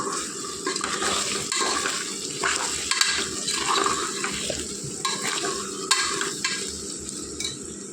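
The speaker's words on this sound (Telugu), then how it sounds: "బంగాళదుంపలు ఫ్రై అవుతున్నాయండి ఇప్పుడు కారం వేసుకుందాం" Potatoes for a potato curry fry in a pan and are stirred after chili powder is added, giving a steady close sizzle with scraping stir strokes throughout, no talking.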